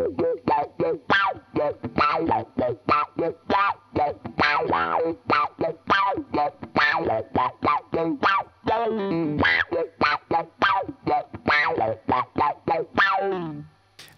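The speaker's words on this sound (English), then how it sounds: "If I pluck it a little harder, you'll hear it open the envelope right up." An electric guitar plays single-note funk lines through an envelope filter pedal, each plucked note sweeping with a vocal, quacking wah, closely and clearly, in quick separated phrases with no talk.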